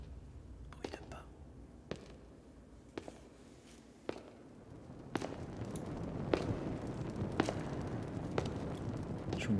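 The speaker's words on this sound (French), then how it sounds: "Bruit de pas." Soft, irregular footsteps crunch in Zelda: Tears of the Kingdom, about a dozen scattered steps over a low murky ambient rumble that swells toward the end.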